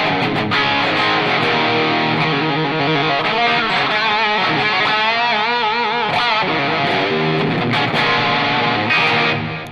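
Guitar through a Positive Grid BIAS Distortion pedal with gain at full, a thick, saturated overdriven tone played continuously and loudly for about ten seconds with ringing chords and sustained notes.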